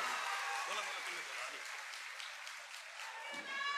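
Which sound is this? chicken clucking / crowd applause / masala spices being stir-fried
crowd applause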